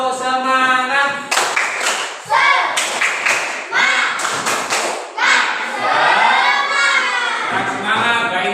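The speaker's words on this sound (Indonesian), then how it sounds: "Ayo tepuk semangat dulu." Children in a classroom perform a rhythmic clapping chant, sharp claps and thumps alternating with sung, shouted call-and-response voices, lively and close.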